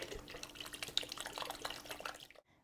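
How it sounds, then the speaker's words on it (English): Broth pours into a slow cooker holding lasagna soup ingredients, a short, close, trickling splash with small drips before it abruptly stops. "Then I'm going to add the rest of my broth."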